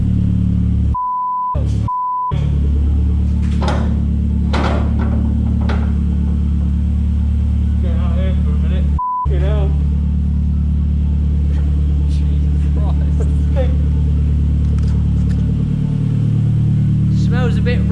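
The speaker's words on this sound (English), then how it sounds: "She's alive with a bigger turbo." A Nissan S13 running with a bigger replacement turbo: a loud, steady engine idle with a low drone, punctuated by a few sharp revs and brief beeps, and people talking over it.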